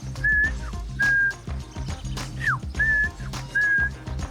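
A person whistles an imitation of birdsong in four or five short, bright warbling phrases with slides, loud and close, over a low rhythmic music bed.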